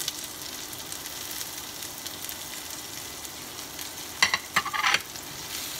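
Ginger and scallions frying in a tablespoon of butter over a medium flame for chicken mince, giving a steady close sizzle throughout, with a few sharper stirring scrapes near the end.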